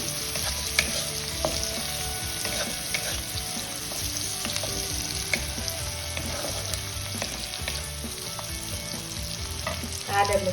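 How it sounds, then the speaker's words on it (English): Chopped ginger, garlic and green chili fry in a pan for a dhaba-style moong dal tadka, a Kolkata street-food dish, giving a steady, close, dense sizzle with occasional stirring scrapes and no talking. "Some chopped ginger and garlic. Some green chili. And we will fry this nicely."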